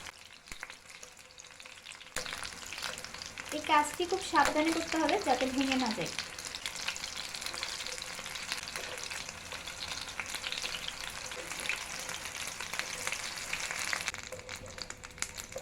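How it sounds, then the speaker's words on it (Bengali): Chicken pakoras shallow frying in a small amount of oil over low to medium flame, a steady broadband sizzle running throughout, with a brief spoken remark partway through. "বারবার উল্টে দিয়ে আমি পাকোড়াগুলো লো টু মিডিয়াম ফ্লেমে ফ্রাই করে নিচ্ছি"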